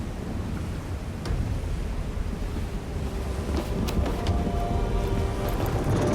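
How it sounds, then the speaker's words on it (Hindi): Wind and surf roar without a break in a storm at sea, a dense, steady wash of noise with occasional sharper cracks and splashes. "हम तूफान का मजीद सामना नहीं कर सकेंगे"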